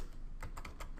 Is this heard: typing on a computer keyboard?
yes